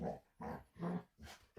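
A dog growling up close in four short rumbling bursts separated by brief pauses, fairly quiet and with no talk over it.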